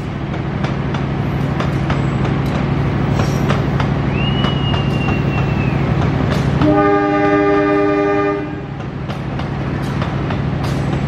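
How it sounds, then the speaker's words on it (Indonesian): The Bangunkarta passenger train rumbles steadily nearby as it departs from track 4 at Jatinegara station, Jakarta; midway a long, loud horn sounds with strong harmonic tones, then fades back into the continuing rail noise. "dari jalur 4 kereta api Bangunkarta diberangkatkan"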